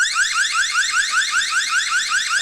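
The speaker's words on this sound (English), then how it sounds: "manual alarm, it will sound 30 seconds alarm" A loud, piercing electronic alarm siren from a eufy 2K Indoor Security Camera C24, manually triggered, sweeps upward in rapid, repeating whoops, continuous and shrill, with no talking.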